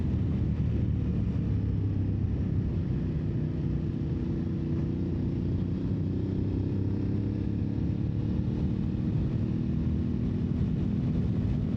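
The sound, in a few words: Aprilia Tuareg 660 motorcycle engine and airbox intake sound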